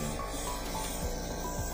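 Power sprayer blasting water to clean a floor-standing Koppel air conditioner, a steady loud hiss of spray running without a break throughout, up close.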